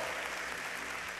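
Congregation applause during a church sermon, a short, dense wash of clapping that stays even and somewhat distant, with no voices over it.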